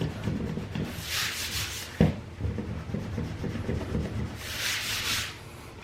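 A rubber end on the back of a tape measure rubs out a pencil mark on wood in two brisk scrubbing bursts, close and fairly soft, with quiet handling between them.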